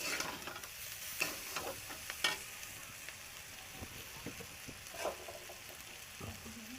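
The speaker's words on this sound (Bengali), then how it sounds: "এই যে ঘুগনিটা কষানো হয়ে গেছে" Ghugni, a spiced pea curry, is stirred and fried in a pan: a soft background sizzle broken by irregular scraping strokes of a spoon against the pan, close and fairly quiet.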